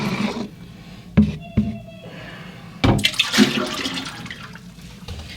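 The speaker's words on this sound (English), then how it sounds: "We can take this container of water and we can just dump it right back in the bowl." Water from a container is dumped into a toilet bowl during a flush repair, a few short splashing pours and gurgles close by in a quiet bathroom.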